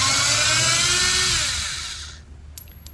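A power driver with a Torx 20 bit whines steadily while unscrewing a screw from a Mercedes CLS550 W219 door panel, loud and close, then stops abruptly, followed by a few light clicks.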